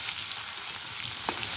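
Onions frying in hot oil in a wok seasoned with cumin and bay leaf, a steady close sizzle with a brief stirring scrape near the end.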